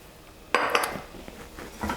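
Metal spoon clinking against a pan while quinoa and spinach are stirred with olive oil, a few brief scraping clinks close up in a quiet kitchen.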